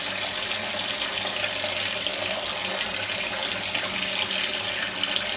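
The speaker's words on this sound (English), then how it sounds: "Fill this sink up about 5 inches." A tap runs steadily into a sink as it fills with water, a constant loud splashing rush with no pauses.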